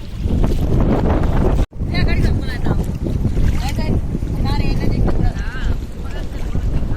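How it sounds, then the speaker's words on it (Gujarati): Loud, gusty wind at a flooded beach buffets the microphone throughout, roaring almost continuously with one brief dropout, while a voice speaks faintly beneath it. "કદાચ તો મારો અવાજ નહીં આવતો હોય કેમ કે પવન બહુ જ છે"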